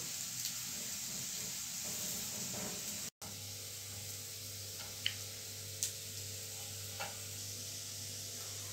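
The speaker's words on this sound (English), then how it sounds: "where I'm putting them on a pan is just to saute them a bit, a little bit and allow them to brown and get the flavor from the coconut oil" Potatoes sautéing in a pan with coconut oil, a soft, steady sizzle with occasional faint ticks and stirring clicks, quiet and close, with a brief cut partway through.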